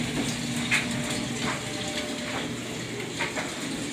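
A washing machine runs its wash cycle with a steady churning, sloshing water noise and faint periodic swishes, continuous and moderately loud with no voices.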